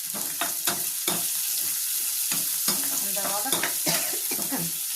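Tamarind mixture for fish curry hits a hot tempering and sizzles steadily, with repeated stirring scrapes of a spoon in the pan, close and continuous.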